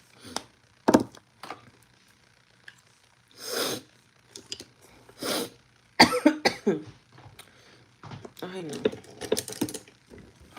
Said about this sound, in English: I have a lingering cough too